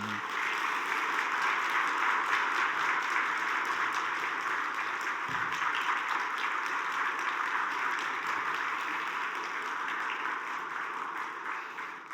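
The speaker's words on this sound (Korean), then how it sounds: "박수로 모시겠습니다" A church audience gives sustained, full applause to welcome a pastor at a Sunday service, a dense, even roar of many clapping hands that holds steady for a long stretch.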